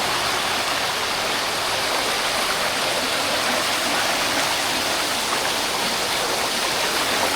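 Tumagiti Falls in Camarines Sur, a waterfall pouring into a stream and basin, a steady loud hiss of rushing water that stays constant throughout with no talk.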